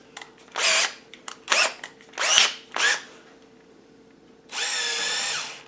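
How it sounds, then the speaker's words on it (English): A power drill bores a small hole in the front seal of a VE injector pump from a 200/300Tdi engine, running in four short whirring bursts followed by one longer steady run, close and loud with no talking. "So I drilled a little hole here."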